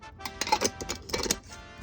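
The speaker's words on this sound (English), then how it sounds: "Put your lid on the jar." A lid is screwed onto a pickle jar, giving a quick series of close, light clicks and scrapes that come in two short bursts. Nobody speaks.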